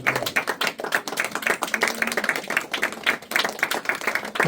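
Audience clapping at a church anniversary program, a dense spread of claps filling the clip steadily at moderate loudness, with a faint voice now and then underneath.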